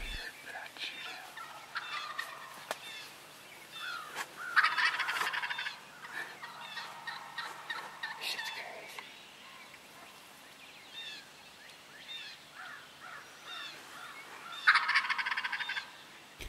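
A wild turkey tom gobbles twice, about ten seconds apart, from a moderate distance outdoors in spring turkey season, with a steady patter like light rain in the background.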